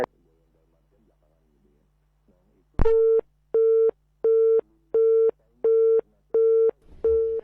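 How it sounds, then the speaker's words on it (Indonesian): Telephone busy tone after a call drops: a single click, then six evenly spaced steady beeps at a regular on-off rhythm, clear and alone with no talk. "sepertinya terputus ya. Nanti kita bakalan coba untuk telepon lagi"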